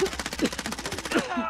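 Rapid automatic gunfire rattles in a video game shooter, a fast even burst of shots lasting over a second, with brief voice sounds under it.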